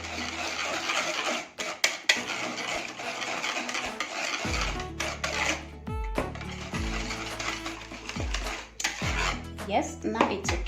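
Oat pancake batter with cooking oil being whisked in a bowl, a run of quick rhythmic scraping and tapping strokes against the bowl, close and fairly loud, broken by brief pauses and clinks.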